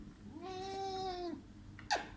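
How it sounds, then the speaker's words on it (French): A cat lets out one long, drawn-out meow, close and clear over a quiet room, followed by a brief faint sound near the end. "mon chat."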